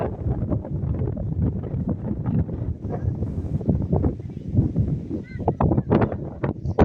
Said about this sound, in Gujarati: પવન તમે જોઈ શકો છો મિત્રો બહુ જ પવન છે અહીંયા